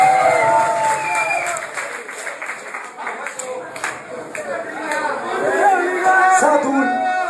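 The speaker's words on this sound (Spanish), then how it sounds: "Un aplauso para mi hermano, Pío Conoche." An audience applauds at a Spanish-language freestyle rap battle event, scattered clapping and crowd noise rising and falling under an emcee's voice that keeps talking throughout.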